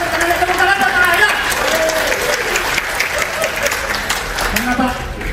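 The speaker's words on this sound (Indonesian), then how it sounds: "Tepuk tangan buat Pak Hayo" A crowd at an Indonesian gathering applauds for Pak Hayo, with dense, continuous clapping and some crowd murmur that stays loud and steady throughout.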